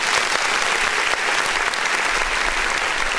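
Steady, dense clapping during a live online music review stream, continuous and evenly loud for the whole stretch.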